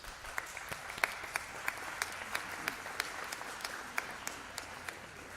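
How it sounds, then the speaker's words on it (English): Sparse applause rises from a small gathering at an International Day of the Seafarer event, with scattered distinct hand claps popping over a faint, distant background wash. "the Harbour Master is the first person to clap hands"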